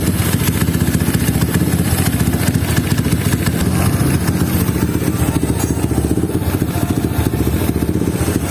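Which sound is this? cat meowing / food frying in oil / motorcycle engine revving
motorcycle engine revving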